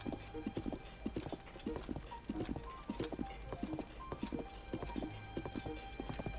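Horse hooves clip-clopping in the video game Zelda: Tears of the Kingdom, a steady rhythmic trot of hoof beats with occasional snorts, faint and alone.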